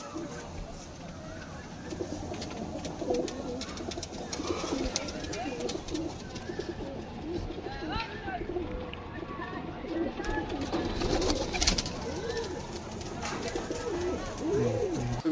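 Native pigeons coo repeatedly in a loft, soft rolling calls that run steadily throughout, with people's voices murmuring faintly underneath.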